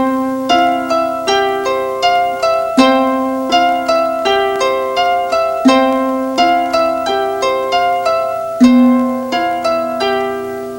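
Harp played with both hands, the left hand holding a low C in the bass while the right picks out a melody; plucked notes ring clearly and overlap in a steady, unhurried rhythm, close and fairly loud, with no talking.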